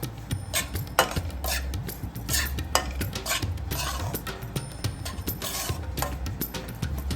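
Semolina roasts in ghee while a spoon stirs it steadily, giving dense, close scraping and clattering against the pan with a continuous gritty rustle and no talking.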